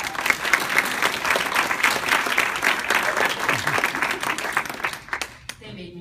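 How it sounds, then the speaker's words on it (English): An audience gives a round of applause after a speech. The clapping is full and sustained for about five seconds, then fades out with a few scattered claps as a voice comes in. "Let's give them a round of applause."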